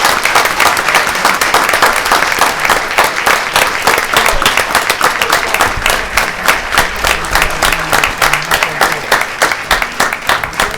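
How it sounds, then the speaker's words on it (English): Audience applause for a group of Bolingbrook High School students at a school board meeting: dense, steady clapping from a crowd, loud and sustained throughout with no talk over it. "Let's give them a round of applause,"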